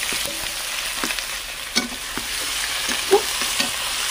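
Onions frying in a home kitchen pan, a soft steady sizzle with occasional stirring scrapes and clinks, close and moderate, no voices.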